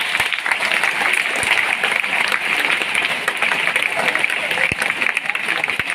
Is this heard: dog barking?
no